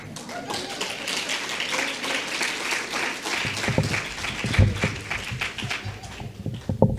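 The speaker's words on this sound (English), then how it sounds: "You have to remember now that the clap is for two persons" Steady applause from the audience at an awards ceremony fills the room, with a few louder, closer claps standing out toward the end.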